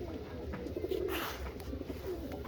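Pigeons cooing close by while they feed on prepared grit, a soft continuous rolling coo that swells and fades over a low background hum, ending abruptly.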